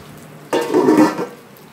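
Molat fish dropped into a pan with pumpkin, a short close burst of sizzling and clatter that fades within about a second.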